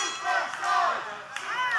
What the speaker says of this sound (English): The crowd's chanting superstars.